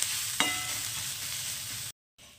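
Bitter gourd and mango frying in a pan, a steady close sizzle with stirring scrapes and a sharp clatter near the start, cut by a brief silent gap before the sizzle returns.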